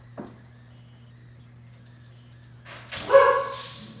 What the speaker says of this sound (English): Sorry, my dog is playing.